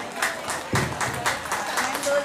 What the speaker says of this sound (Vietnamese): xin quý vị cho anh chung một tràng vỗ tay để khích lệ tinh thần